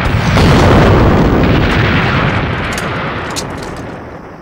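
Artillery shells exploding during an ambush in a Chinese anti-Japanese war film: a loud, heavy rumbling blast that swells at the start and slowly fades away over several seconds, with no voices.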